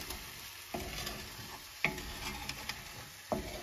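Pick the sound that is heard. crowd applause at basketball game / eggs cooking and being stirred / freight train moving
eggs cooking and being stirred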